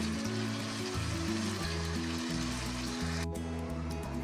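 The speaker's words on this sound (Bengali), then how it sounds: "এটাকে আমি ভালো করে কষিয়ে নিই" Vegetables sautéing in oil in a pan, a soft steady sizzle beneath a loud droning hum, with a brief sharp clatter near the end.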